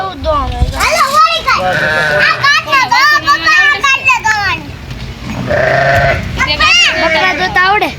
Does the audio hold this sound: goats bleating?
yes